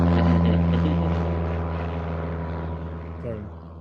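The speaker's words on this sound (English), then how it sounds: "I think that's their plane taking off." A propeller plane takes off as a game sound effect, a steady, droning engine hum with a rich buzzing tone that slowly fades and thins out over several seconds.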